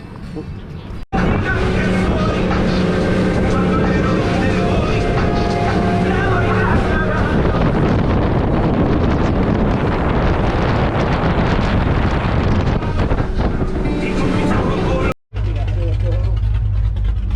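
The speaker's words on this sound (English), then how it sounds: "got this loud race boat right in front of us" A loud race boat's engine roars steadily in the Florida Keys, with wind buffeting the microphone, continuing almost without break before a brief drop and a low rumble.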